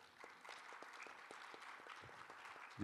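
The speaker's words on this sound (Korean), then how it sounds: "큰 박수로 맞이해 주시기 바랍니다" An audience at a peace forum gives quiet, scattered applause in a large hall, with individual claps audible at a distance, before a sudden louder thump at the very end.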